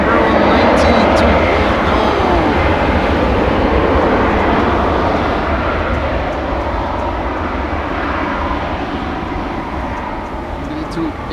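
A KLM Embraer 190 at Amsterdam Schiphol makes a continuous loud jet engine roar, heard steady and broad throughout. A voice talks over it in places.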